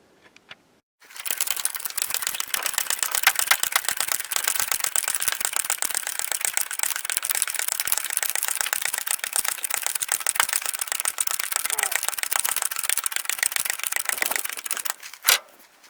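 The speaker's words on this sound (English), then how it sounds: "I put the jack up under the lower control arm so I can jack the control arm up" A jack raises the lower control arm on a 2004 Crown Vic, a fast, steady mechanical rattling that runs continuously for about fourteen seconds at close range, then stops abruptly.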